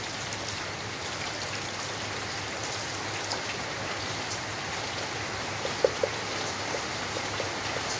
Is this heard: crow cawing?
no